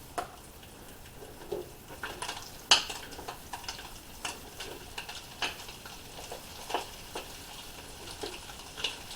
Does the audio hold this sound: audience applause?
no